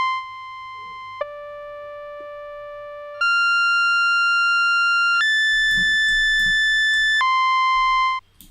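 Moog Minimoog synthesizer plugin plays a series of steady pure tones at changing pitches, each held about two seconds with its decay setting altered, clean and alone with faint background noise.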